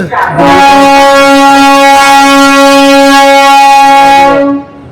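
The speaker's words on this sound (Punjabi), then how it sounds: "ਮਾਰਦੀ ਹੌਰਨ" A train's horn sounds near Delhi Junction as the train pulls out, one long, steady, loud blast lasting about four seconds, close by, before cutting off.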